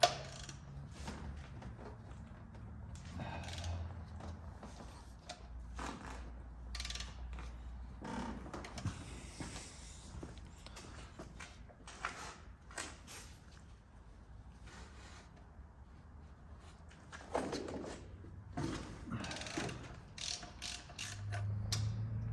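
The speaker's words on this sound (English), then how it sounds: "I've got my 32 millimeter socket, flex head ratchet. Put that on the timing chain tensioner." A flex head ratchet with a 32 mm socket clicks away at the timing chain tensioner on a 2003 Saturn Vue GM 2.2 Ecotec engine, giving close, repeated bursts of ratcheting pawl clicks with short pauses between strokes and no talking.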